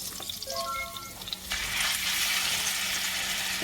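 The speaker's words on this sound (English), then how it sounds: "And then we're going to cook our beef mince." Beef mince hits hot garlic oil in a pot with a sudden loud sizzle that settles into steady, close frying after a few light clinks.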